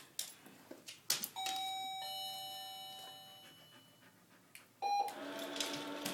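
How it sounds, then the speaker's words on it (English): A doorbell chimes inside a home during hearing-dog training, with a sharp bell tone ringing and fading over several seconds, then a second ring starting near the end, with no talk over it. "just ring the doorbell again if she doesn't go"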